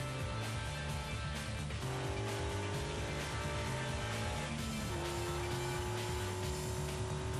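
A Nissan Sentra SE-R Spec-V's 2.5-liter, 200-horsepower engine running flat out, a loud, steady drone climbing through the gears with clear shifts partway through, heard alone.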